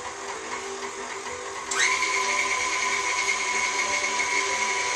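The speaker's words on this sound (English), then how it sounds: "we're going to just turn the mixer on here" An electric mixer creams Earth Balance butter sticks for a lemon poppyseed pound cake. After a low background hum, the motor kicks in sharply partway through and then holds a steady, close whirring drone.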